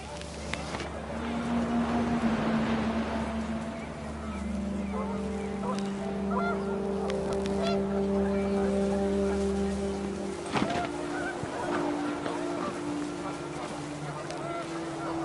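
Several geese honk in agitated bursts outdoors on a windy day, calls overlapping near and far against a steady low engine-like drone, with a sharp knock partway through.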